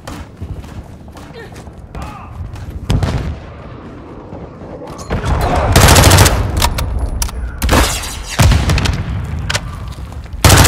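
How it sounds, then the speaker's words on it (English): A cruise missile strike in Call of Duty MW2 combat lands as heavy booms and rumbling blasts, joined by bursts of gunfire and loud impacts that swell after a quieter stretch, with voices partly audible in the mix. "Friendly cruise missile inbound."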